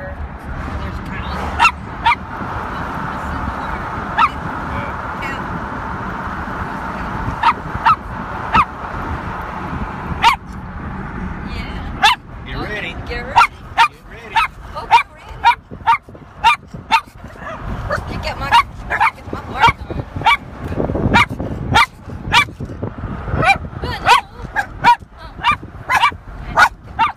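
A dog barks repeatedly outdoors, sharp, loud and close, in irregular bursts that grow denser in the second half, with some whimpering between them and people talking faintly at times.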